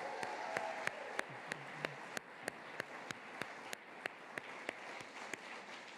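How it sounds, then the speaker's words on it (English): Faint, distant audience applause for the finalists at a global finals event, a soft wash of clapping punctuated by sharp, evenly spaced taps that recur roughly every third of a second. "So let's give them one last round of applause."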